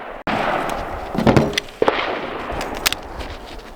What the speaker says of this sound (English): shooting the Staccato 2011